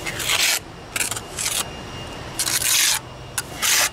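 Plaster being spread and rubbed onto a foundation wall during repair, a series of short, close scraping and rasping strokes separated by brief pauses.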